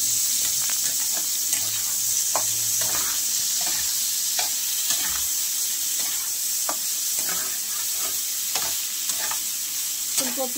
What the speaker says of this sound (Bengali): ফুলকপি আলুটা ভেজে নিলাম